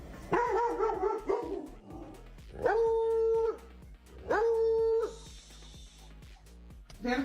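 A pet dog named Danica lets out two long, sustained howls with a few yips and barks between them, loud and close, with faint human voices in the background.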